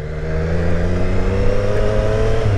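A loud, close motorcycle engine revs and climbs steadily in pitch, a continuous throaty drone for a couple of seconds with no voices.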